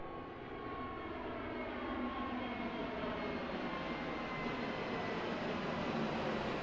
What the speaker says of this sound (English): Listen to those Neo engines, so quiet.